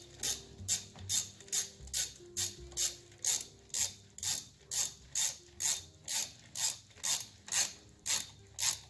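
A hand ratchet clicks in steady, regular strokes, about fifteen to sixteen evenly spaced bursts, tightening valve cover bolts on a BMW E46, close and clear with no talking.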